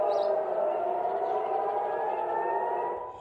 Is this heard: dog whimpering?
no